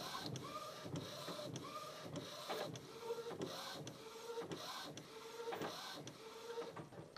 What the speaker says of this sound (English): I hope it's visible what the printer is actually laying down